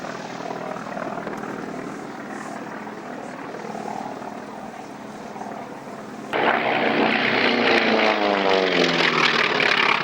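A Grumman Wildcat propeller fighter flies at the Duxford autumn air show, a steady loud engine roar that suddenly grows louder and closer partway through, with a falling pitch sweep as it passes.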